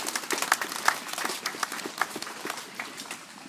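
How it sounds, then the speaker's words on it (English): Clapping from a school audience for the school council members at a play area opening ceremony, a scattered round of hands that thins out over a few seconds, with no talk. "we give school council members a big round of applause as well"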